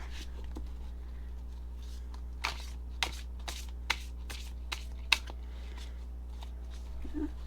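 Tarot cards being shuffled in a series of short, crisp riffles and taps, spaced unevenly over a low steady hum, close and fairly quiet.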